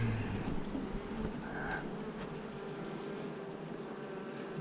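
Honeybees buzz around an opened hive in a continuous, fairly close, even drone, with no voices over it.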